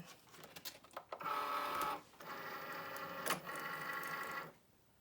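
A Cricut cutting machine pulls in the loaded mat with a steady motorized whir and roller hum in two runs, briefly broken by a short click, then stops.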